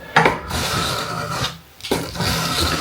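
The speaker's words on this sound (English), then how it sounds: "I'm going to have to go back about 2 grits, as in 2 stages of sandpaper" Sandpaper rasps steadily against a small carbon steel EDC knife blade, close and continuous strokes with a brief pause midway, no talking.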